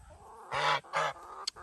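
A loud, friendly farm goose on a Vermont farm gives two strong honking calls close by, followed by a brief sharp squeak.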